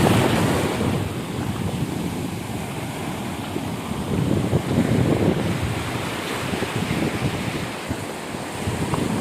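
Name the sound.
sea waves on an uninhabited Lakshadweep island shore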